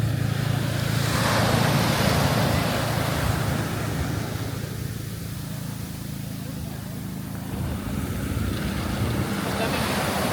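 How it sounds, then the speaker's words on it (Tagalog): Large ocean waves surge and wash along the shore on an Infanta coast road trip, a steady loud roar of surf with wind buffeting the microphone and brief talk over it. "Lalaki ng alon."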